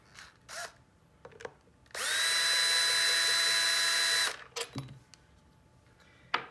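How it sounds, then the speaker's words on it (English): A power drill whirs steadily for about two seconds, close and loud, removing screws from a compressor, with brief clicks and handling noises before and after. "To speed up a bit, we use a power tool."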